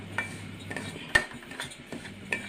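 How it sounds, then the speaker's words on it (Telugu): Sesame seeds are dry-roasted in a pan for a homemade sesame powder, with light scraping and tapping of a spoon or spatula against the pan in a few soft, irregular knocks, close by. "నేను నువ్వుల పొడి చేస్తున్నానండి. ఇప్పుడు ఇవ్వండి నువ్వులు వేపుతున్నాను"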